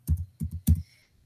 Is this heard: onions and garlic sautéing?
no